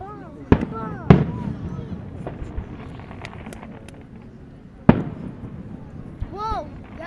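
Fireworks exploding outdoors, with a few sharp, loud bangs spaced seconds apart and whistling rises between them, as people talk and react nearby.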